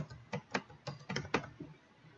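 Keys on a computer keyboard tapped in short, irregular clusters as a word is entered, close and fairly quiet, with no talking.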